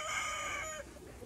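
A chicken in a garden gives a short, loud call that sounds more like a crow than soft clucking. It lasts under a second and is followed by quiet outdoor background.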